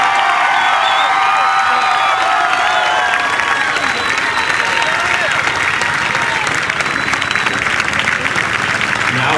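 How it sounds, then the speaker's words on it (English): A crowd at a high school baseball championship gives loud sustained applause to the Valle Catholic Warriors, with cheering, whoops and shouting voices mixed into the dense clapping. "Let's give a big round of applause for the Valle Catholic Warriors."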